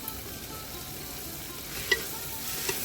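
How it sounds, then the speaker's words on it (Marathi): Chicken methi being stirred in a pan, cooked village style, with a steady soft sizzle of frying under faint scraping and a couple of brief clinks, close and fairly quiet. "छानपैकी आपण याला फिरवून घेणार आहे"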